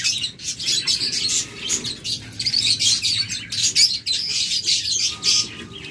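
A pair of lovebirds, a double factor Ewing and a green opaline, along with other farm-kept birds chirp and tweet continuously, bright and busy, with occasional wing flapping and no talking.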